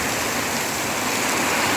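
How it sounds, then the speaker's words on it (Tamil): Dense, steady rushing of heavy rain pouring down, a continuous broadband hiss with no pauses or voices. "மழை தண்ணி அருவி போல் அப்படி ஊற்றுது. அவ்வளோ மழை பெய்யுது"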